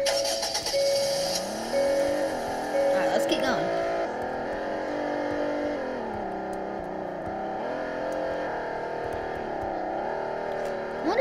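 A car in the Roblox game drives along with a steady engine whir and rising revs, a continuous, moderately loud hum that runs throughout and stays fairly even.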